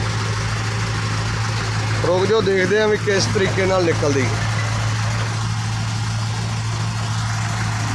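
A steady low rumble of tractor and JCB engines pulling a stuck, loaded truck runs throughout, with someone speaking briefly over it in the middle.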